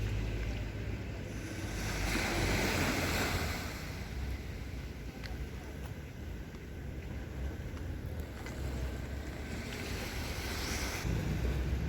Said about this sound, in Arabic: البحر ديالها زوين ونقي